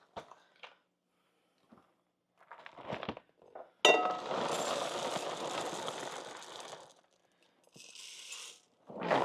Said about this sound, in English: I have this big bowl that has a lid that I'm going to be able to shake this in